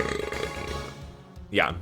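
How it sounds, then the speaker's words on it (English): A loud, gurgling burp bursts out near the end, rising in a throaty rasp after a stretch of speech and background game sounds. "If you want to know what my burp sounds like, it sounds like this one"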